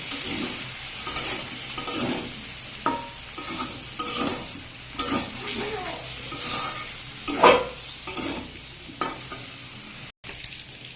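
Potatoes with turmeric and salt stir-fry in a pan with a steady close sizzle, punctuated by repeated scraping stirs and spoon knocks against the pot, without any speech.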